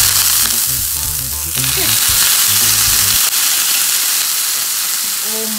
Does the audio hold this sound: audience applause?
no